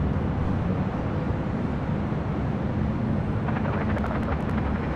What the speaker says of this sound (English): the next United A320 coming in from Seattle, Washington.